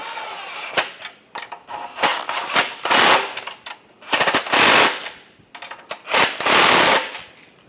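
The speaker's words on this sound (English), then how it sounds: "Using a 13mm socket, we'll tighten these up." A power ratchet with a 13mm socket tightening nuts during a catalytic converter replacement on a 2014-2022 Chevrolet Trax: loud rattling bursts of about one second, repeated with short pauses.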